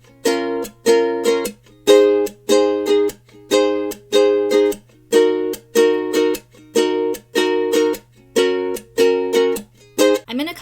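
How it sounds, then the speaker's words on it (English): A chorded ukulele strumming pattern for a song: bright strummed chords repeat in a steady, punchy rhythm with short muted slaps between them, close and alone, no voice. "And with chords, the majority strumming pattern should sound like this."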